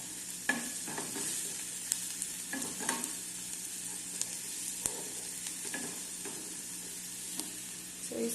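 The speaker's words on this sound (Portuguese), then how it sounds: "Aqui eu coloquei um pouquinho de manteiga, né? Pra ela ir dourando a cebola." Onion, pepper, garlic and meat frying in butter in a pan, a soft steady sizzle with occasional stirring scrapes and clicks, quiet and close with no voices.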